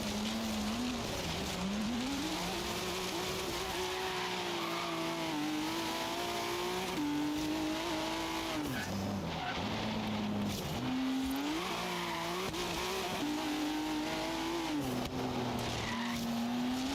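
Racing a GT40 race car in Forza Horizon 3, its engine droning and shifting pitch through corners while tires squeal and skid loudly and continuously.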